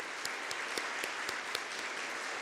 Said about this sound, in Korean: 우리 세 분 자리에서 잠깐 일어나시면 우리 박수로 환영하도록 하겠습니다